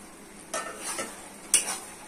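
Soybean, tomato and potato masala being stirred in a pan, with two sharp scraping strokes of a spatula against the metal over a low sizzle, close and clear with no talking.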